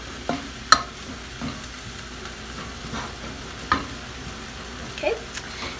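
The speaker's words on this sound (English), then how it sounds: "So I'm gonna mix." Flour and heavy whipping cream stirred into a thickening sauce in a home kitchen, soft scraping and sloshing with occasional sharp clicks of the utensil against the pan, no voices.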